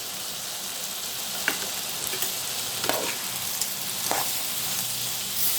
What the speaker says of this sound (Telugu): అన్నీ కలిసేలా ఒకసారి కలుపుకుందాం.